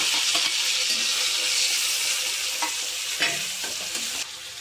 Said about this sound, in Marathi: तडतड येऊ द्या फोडणी छान.